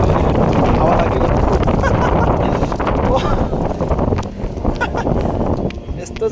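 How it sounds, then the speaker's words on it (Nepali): Strong wind buffets the microphone outdoors on a breezy day near a monastery, a loud rumbling roar that surges and eases, with a voice speaking over it. "हावा लागेको"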